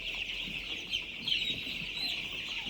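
Four-day-old broiler chicks, part of a flock of six thousand in a poultry shed, keep up a dense, steady chorus of high peeping and clucking that never lets up, with no talking.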